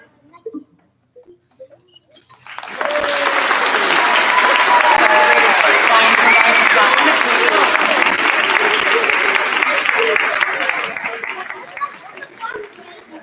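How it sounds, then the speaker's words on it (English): An audience at a first and second grade school concert applauds the second graders after a song: after a few quiet seconds, clapping erupts loudly with cheers and chatter, sustains for several seconds, then fades into scattered claps. "Let's have one more round of applause for our wonderful second graders."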